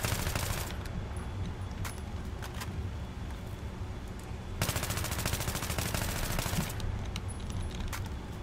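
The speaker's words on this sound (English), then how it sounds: "I am bursting in bursts of 5 to about 7 bullets." An AEK-971 rifle in Battlefield 3 fires rapid bursts of about five to seven rounds, loud dense rattles separated by brief pauses, with one longer sustained burst near the middle.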